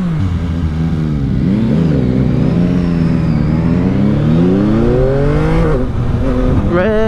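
A 2021 Yamaha MT-09 SP motorcycle engine revs loudly and close up, its pitch rising and falling through several sweeps with gear-change blips, dominating throughout with no talk.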